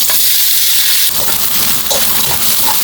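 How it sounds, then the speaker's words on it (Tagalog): Ham frying in a pan as a topping for tuna carbonara: a loud, constant crackling sizzle with hissing spatter, close and steady throughout, without talking. "prituhin natin yung ating ham"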